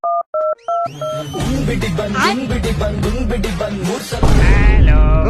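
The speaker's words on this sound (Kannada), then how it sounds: "ನಾನೇ ಹಾಕ್ತೀನಿ ಇವತ್ತು ಫೋನ್ ಅವನ್ಗೆ" Cartoon telephone number being dialed: a quick series of DTMF keypad beeps, then a jumble of animated sound effects and tones follows, getting louder near the end.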